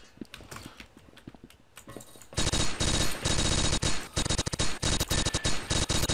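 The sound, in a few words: machine gun firing in video game Blockade 3D, MG42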